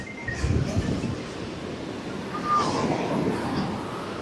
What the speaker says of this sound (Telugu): అలలు పెద్ద అలలు వస్తున్నాయి కానీ కొంచెం డేంజర్గా ఉంది